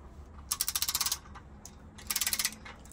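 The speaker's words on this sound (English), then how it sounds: "We got the torque wrench set to 25" A torque wrench ratchets on Honda B-series crankshaft bearing cap bolts in two quick bursts of rapid clicks, each about half a second long, over a quiet background.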